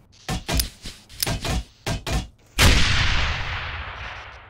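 Grenades go off in the video game Nuclear Dawn, several sharp loud blasts in quick succession followed by one big explosion that rumbles and fades away.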